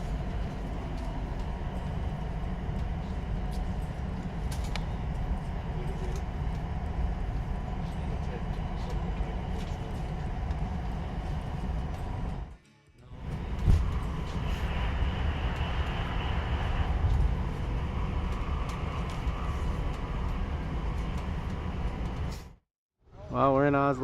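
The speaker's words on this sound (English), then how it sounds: "we're on the train" Continuous rumble and rattle inside a moving train on a trip in Norway, a steady low drone with occasional clicks, cut by two brief near-silent gaps, and voices talking faintly underneath.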